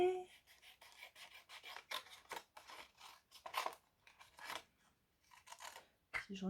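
Scissors cut paper for a floral scrapbooking card: several close, separate snipping and rasping strokes, some sharp and some softer, with brief gaps between them and no talking.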